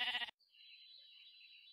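A sheep bleats in the Minecraft video game, a short burst of noise giving way to a thin, sustained, wavering electronic tone, quiet and alone.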